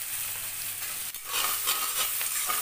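Paste of red amaranth stalks frying with turmeric and salt in a pan, a steady close broadband sizzle with a short dip in the middle before the frying hiss swells back, no talking.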